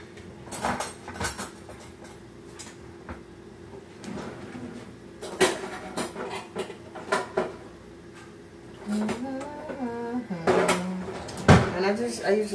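An oven in a home kitchen is checked while potatoes roast, bringing scattered knocks and clatters of a door and pans amid moving about, with a person talking in between.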